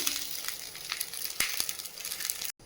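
A bhagar dhirde crepe frying in oil on a pan gives a steady close hiss and crackle, with a couple of light scraping taps as it is turned, ending abruptly; no voices.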